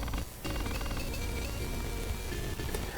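Electronic signal chatter from an electric eel in the game Astronautilus, a steady dense buzzing texture with a brief dropout near the start, then continuous warbling tones and mechanical-sounding pulses at moderate level.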